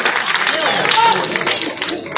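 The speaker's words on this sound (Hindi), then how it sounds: "जोरदार तालियों से अभिनंदन" An outdoor crowd at a village election rally in Agwanpur, Gannaur, applauds loudly in a continuous dense roar of clapping, while an amplified voice speaks over it.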